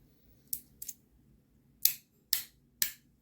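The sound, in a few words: aluminum haptic fidget toy clicking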